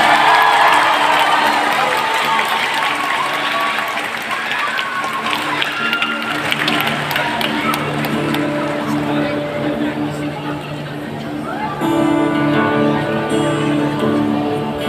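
A crowd at an informal street performance breaks into applause and cheering, dense and loud at first, then thinning as a guitar begins to sound and a voice speaks over it.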